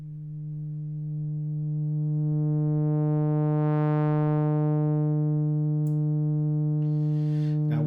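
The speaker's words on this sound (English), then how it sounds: "we've got pretty much a sine wave or something very close to." An Arturia EMS Synthi V software synth filtered down to a near sine wave holds a steady, loud sustained tone as its upper harmonics are swept away, with faint clicks near the end.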